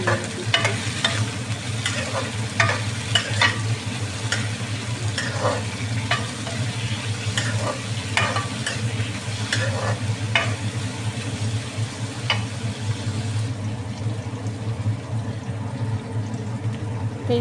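Ginger garlic paste frying in hot oil in a pan while being stirred, with a steady close sizzle throughout and repeated scraping strokes of the spoon.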